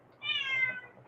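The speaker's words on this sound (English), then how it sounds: "Asian leopard crossed with a domestic cat." A Bengal-type cat, an Asian leopard crossed with a domestic cat, gives a single clear meow close by, about half a second long, against a quiet background.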